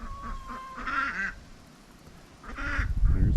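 Young ducklings kept on a homestead quack nearby in a few short, nasal bursts, with quiet pauses between calls and a rustle of movement toward the end.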